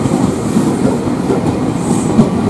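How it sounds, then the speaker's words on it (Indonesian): A rare Indonesian train rolling past close by, a loud dense rumble of wheels and car bodies with faint rhythmic clatter over the rails, continuous throughout without any voices. "Kereta yang langka banget."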